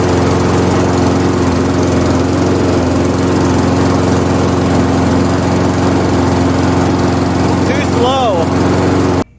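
MTD lawn mower with a Honda engine, just repaired with a new fuel line, running loud and steady close by with a strong constant hum, then cutting off abruptly at the end.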